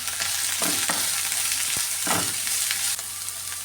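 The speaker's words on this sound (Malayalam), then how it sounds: "സവാളയും പച്ചമുളക് അതും കൂടെ ചേർത്ത് കൊടുക്കാം ചെറിയ രീതിയിൽ ഒന്ന് വഴറ്റിയെടുക്കാം" Sliced onions and green chillies sautéing with salt in a hot pan, a loud continuous sizzle with a few scraping stirs of a spoon, heard close and alone.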